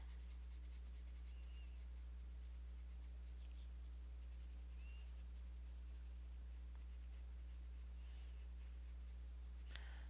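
A Yoobi coloured pencil scratches across paper in steady, quiet strokes, faint and close over a constant low electrical hum, with no talking.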